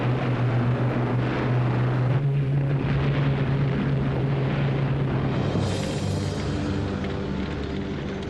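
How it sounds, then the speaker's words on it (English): Allied aircraft and artillery attack fleeing German forces in Normandy, August 1944, during Operation Overlord: a dense, continuous roar of engines and rumbling bursts, loud and unbroken, with no talking. "They were remorselessly harried by Allied aircraft and artillery."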